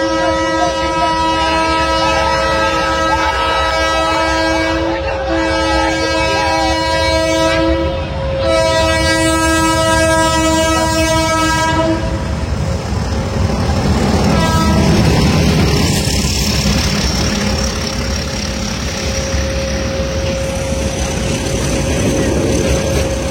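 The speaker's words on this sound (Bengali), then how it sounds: "নারায়ণগঞ্জ কমিউটার ট্রেনটি এখন গ্যান্ডারিয়া রেলওয়ে স্টেশন প্রবেশ করছে ভিন্ন রেলপথ দিয়ে।" A Narayanganj commuter train enters Gendaria railway station, sounding a long, loud multi-tone horn in several blasts over a heavy rolling rumble that continues as the train passes close by.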